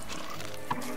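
A pig in the video game Don't Starve gives a single brief grunt, short and fairly quiet, rising out of a soft, steady ambient game background.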